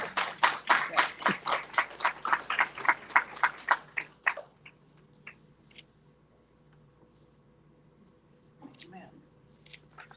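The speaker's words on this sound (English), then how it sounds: "Let's give her another big round of applause." An audience applauds a young pageant contestant with a rhythmic burst of clapping for about four seconds. It fades to a near-silent room with a few faint scattered sounds.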